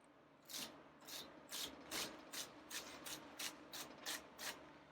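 A kitchen knife slices vegetables for slaw on a cutting board in about a dozen quick, evenly spaced crisp chops, close and clear with no talk.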